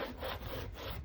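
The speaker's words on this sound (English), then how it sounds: "We're going to give it a little bit of sanding." Steady rasping rubs of sandpaper on wood, repeating in even back-and-forth strokes, close and fairly quiet with no talking.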